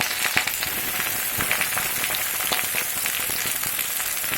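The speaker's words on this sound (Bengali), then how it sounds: "পেঁয়াজটা একটু ভাজা ভাজা হতে দেব।" Chopped onions fry in a generous amount of hot oil for a tadka, giving a steady, loud, close sizzle with light crackles and no talking.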